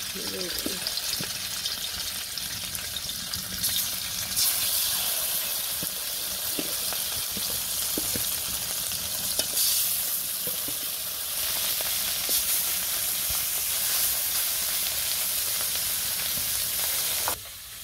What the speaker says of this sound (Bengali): এই তো মাছটি আবার দিয়ে দিই।